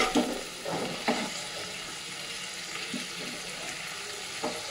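A steady hiss of fish frying in a nonstick kadai, with a few soft scraping knocks of a spatula early on and one more near the end.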